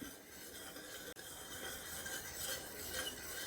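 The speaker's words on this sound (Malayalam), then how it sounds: "നമ്മൾ പാലൊന്ന് ഇടയ്ക്ക് ഇളക്കി കൊടുത്തോണ്ടിരിക്കണം" Milk for tender coconut payasam is stirred in a pot, a faint, soft scraping and swishing under a low hiss, with one brief break partway through.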